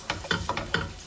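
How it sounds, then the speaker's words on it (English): A spoon stirs yogurt into a chicken curry in a pan with the heat off, giving four soft, rhythmic scraping strokes close by and quiet with no voices. "Just stir it."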